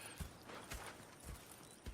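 Horse hooves clip-clopping on a dirt road in the Red Dead Redemption 2 video game, a few soft thuds at an uneven walking rhythm under a low background hum, with no talking.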